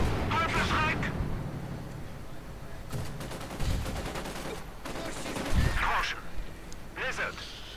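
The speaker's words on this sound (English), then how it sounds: "German mortar continues to fire away." German mortar firing in a WWII strategy video game, dull thumping launches and blasts amid battle noise and other gunfire, heard under steady commentator talk.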